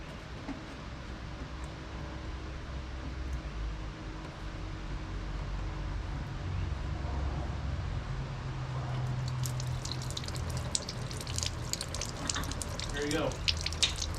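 Coolant drains from a car's cooling system, a steady wash of liquid that turns into a brighter trickle with scattered drips in the latter half, over low background rumble.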